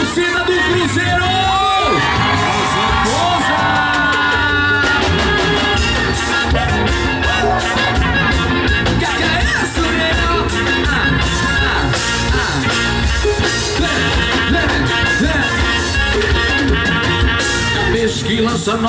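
Cruzeiro football supporters in a concert crowd roar, whoop and shout continuously over loud live band music at a festive show, a dense, unbroken wall of noise with voices yelling throughout.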